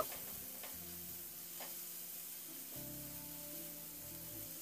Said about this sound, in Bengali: এবার এই মশলাটাকে নাড়াচাড়া করে নেব মিনিট 2-1 জন্য